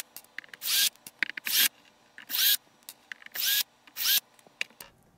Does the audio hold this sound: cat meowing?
no